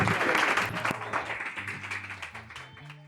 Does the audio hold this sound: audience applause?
yes